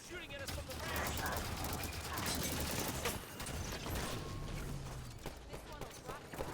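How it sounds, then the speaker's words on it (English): Gunfire in the Halo 5: Guardians video game: dense, rapid clattering bursts and mechanical weapon noises, loud and continuous, with voices talking over the action. "Shooting at us from the rear."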